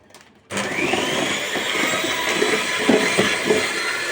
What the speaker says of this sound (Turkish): Ve tekrar çırpıyorum.